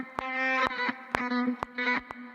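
A vocal-like synth sample designed in Serum for a remix repeats short formant-shaped stabs with sharp clicky transients, loud and close with a little echo.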